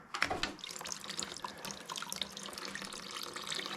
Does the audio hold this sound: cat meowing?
no